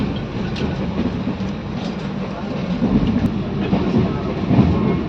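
A Shatabdi Express from Chennai Central to Coimbatore rolls along the rails at low speed, heard from inside the coach as a steady loud rumble with faint clickety-clack, and no talk over it.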